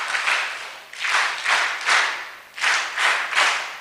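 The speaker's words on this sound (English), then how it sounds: "Let's give her some 3 more hearty claps." An audience claps heartily at an agricultural research festival event, several short bursts of applause rising and fading in waves, close and fairly loud with no talking.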